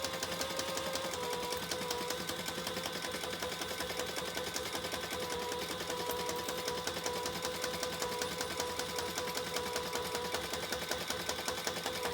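A sewing machine stitches a seam on a crossbody bag, running steadily at moderate speed with a continuous, even whir throughout and no talking.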